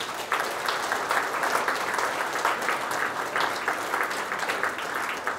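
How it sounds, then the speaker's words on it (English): A closing-ceremony audience applauds steadily for rural-area mentors, a dense, even wash of clapping from many hands that holds at a moderate level throughout without any voices over it. "So let us give them a round of applause."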